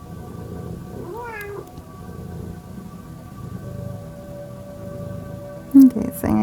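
A domestic cat meows in short rising calls early on, close and clear over a steady low room hum, with another brief sharper cry near the end.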